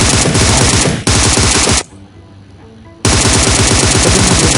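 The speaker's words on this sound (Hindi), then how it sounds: "सामने से गोलियां पड़ रही होती हैं" Rapid automatic gunfire in PUBG in loud sustained bursts, broken by a short lull, then resuming at full intensity.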